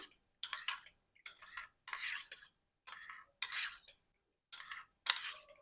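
Vinegar and water being stirred in a container with a metal spoon, a run of about nine quiet, close, clinking scraping bursts in an irregular rhythm, alone with no talking.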